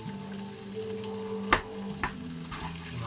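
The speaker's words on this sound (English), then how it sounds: "Right, so we're going to sort of break the onions up a little bit." Onions fry in a pan with a continuous steady sizzle, broken by a couple of sharp utensil knocks as they are broken up and stirred, heard close with no talking.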